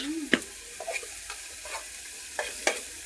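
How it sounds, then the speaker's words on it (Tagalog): Onions frying in a pan, a steady sizzle with several sharp scrapes and clacks of a utensil stirring them at irregular intervals, close and clear, with no talking. "Magluluto kayo sibuyas para hindi siya masunog, halo-haluin nyo."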